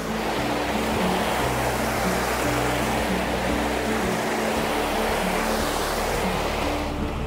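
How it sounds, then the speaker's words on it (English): Rain-swollen water pours down a large waterfall section on a steep fell path along the Cumbria Way, a loud, continuous rushing roar close by with no break. "It's like, it's a massive waterfall section, this."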